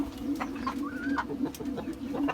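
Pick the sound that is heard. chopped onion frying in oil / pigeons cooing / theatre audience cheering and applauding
pigeons cooing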